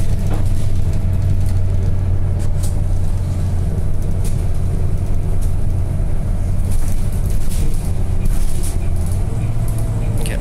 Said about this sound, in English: It's an airport bus.